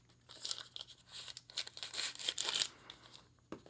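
Crinkling and rustling of a small plastic Ziploc pouch holding a Kizer Staffy knife, handled up close in irregular bursts of crackle with a brief final crunch, no talking.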